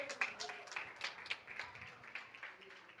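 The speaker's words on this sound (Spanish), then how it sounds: "Fuerte el aplauso al Señor." A church congregation claps in rhythmic unison for the Lord during worship, a faint, steady beat of hand claps roughly every quarter second, heard from a distance.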